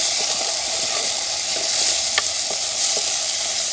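Onion and green chilli sizzle steadily in a pan for a crab stir-fry, with occasional clicks of a spoon stirring through the constant frying hiss, close and fairly loud, no voices.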